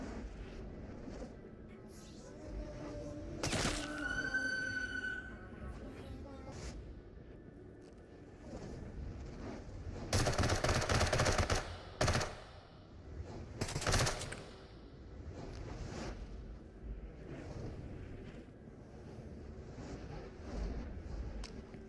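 Bursts of AK rifle fire from the game Into the Radius, a few separate volleys of rapid shots at close range, with quieter gaps of movement and handling noise in between.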